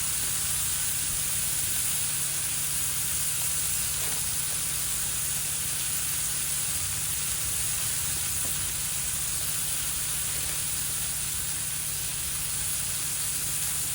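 Smash burgers cook on a hot camp griddle outdoors, giving a steady, even sizzle and hiss that carries through the whole stretch at moderate level, with no talk over it.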